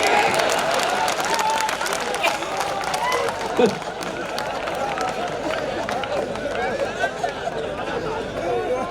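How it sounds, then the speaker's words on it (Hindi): An audience at an outdoor poetry recital in Sagwara claps steadily in a dense, continuous patter, with crowd murmur and a voice mixed in beneath. "सारे लोग ताली बजाओ"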